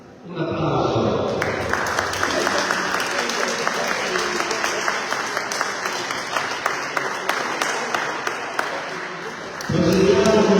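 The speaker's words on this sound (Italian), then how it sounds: "Un applauso." Audience applause at a sports awards ceremony for a veterans' tournament in Alghero, Sardinia: sustained, dense clapping from a crowd lasting several seconds, opening after a brief voice and ending as a speaker resumes.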